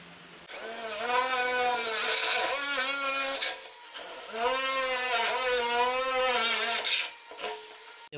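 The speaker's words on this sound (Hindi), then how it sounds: "ड्रिल करेंगे अब" An electric drill bores holes while a door lock is being installed, with two loud, whining bursts of a few seconds each and a brief pause between them.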